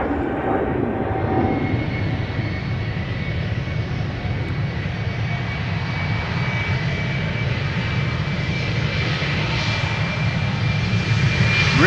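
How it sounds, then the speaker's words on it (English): BA CityFlyer Embraer 190 jet bound for Humberside taking off from Schiphol's Polderbaan: a sustained, loud engine roar with a thin whining tone running through it, building slightly toward the end, unbroken by speech. "British hopper Embraer 190 to Humberside."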